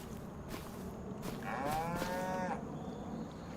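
Cattle in the video game Farming Simulator 25 let out a single drawn-out moo, moderately loud over a steady background hum, with no talking.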